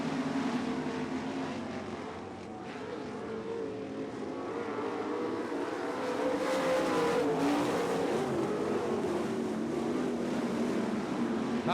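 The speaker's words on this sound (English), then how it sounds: "Oh, look at that car fly on the outside." Dirt track race cars, including Grand National and B-Mod classes, roar around the oval during a championship night, a layered engine drone with rising and falling pitch as cars pass, swelling louder in the second half.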